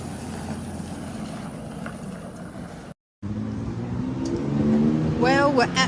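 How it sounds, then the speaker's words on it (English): Heavy trucks rumble past along a street in the small country town of Hay, a steady low engine drone that swells louder toward the end, with a brief dropout midway and a vehicle passing close by. "A lot of trucks go by."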